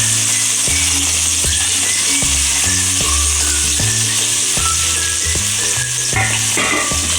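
Chopped okra fries in oil with a loud, continuous hiss and sizzle, steady throughout with no voices.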